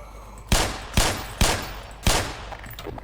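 Gunfire in Half-Life Black Mesa, four sharp separate shots spaced about half a second apart, loud and close, each with a short ringing decay and no talking.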